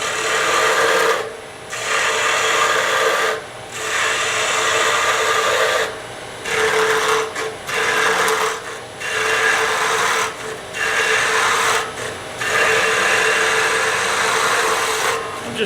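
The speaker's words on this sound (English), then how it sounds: "I'm just doing a standard planing cut." A wood lathe turns a pen blank while a tool makes repeated planing cuts, each pass a loud, steady hiss broken by short pauses, heard up close.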